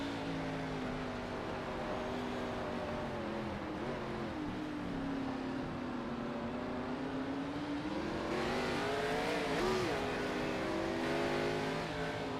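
A race car engine drones steadily at close range in a Chicago racing event, rising and falling in pitch as the driver works the throttle and shifts gears, continuous and loud with no talk.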